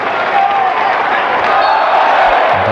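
Brighton fans in a stadium crowd during a match against Chelsea, a steady loud roar of cheering and chanting that carries on throughout, with a commentator's voice over the top.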